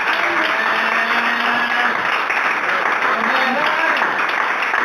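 Congregation applauding for the Lord during a French-language church testimony, a dense steady wash of clapping filling the whole stretch at close range, with talk faintly underneath.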